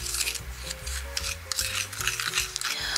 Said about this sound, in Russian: Итак, желток помещаем в соду. И все хорошо перемешиваем.